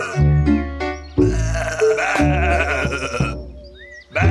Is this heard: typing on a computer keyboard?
no